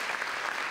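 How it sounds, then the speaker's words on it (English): Brief burst of audience applause at a Fred Korematsu Day celebration, a dense, steady wash of clapping hands filling the room with no voices over it. "let's just everyone give a round of applause for yourselves"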